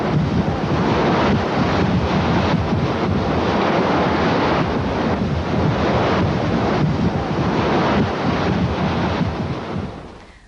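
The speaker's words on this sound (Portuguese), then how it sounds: "Um cinegrafista consegue registrar um momento em que o mar engole uma casa em Massachusetts" Violent sea waves crash against a house on the Massachusetts coast, a loud, continuous roar of surf and wind buffeting the microphone for the whole stretch, with surging pulses and no voices.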